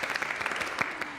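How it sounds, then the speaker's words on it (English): Audience applause at a children's musical morning show, a short burst of steady clapping from a crowd filling the whole moment with no talk over it. "giving her a big round of applause"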